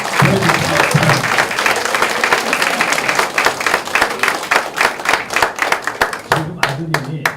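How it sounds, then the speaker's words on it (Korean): An audience claps at a Korean election campaign committee launch event, the dense applause thinning into distinct, sharper individual claps toward the end, with voices audible over it. "뜨거운 박수를 한번 보내주시기 바랍니다"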